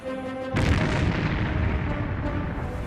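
A wartime torpedo strike on the SS Munich, a convoy ship loaded with iron ore, erupts as a sudden deep boom that swells into a loud, sustained rumbling roar.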